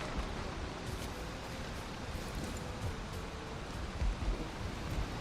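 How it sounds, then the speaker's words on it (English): Rain falls in the video game Valheim as a steady, even wash of dense patter, moderately loud throughout with no pauses. "I was hoping that it wouldn't rain."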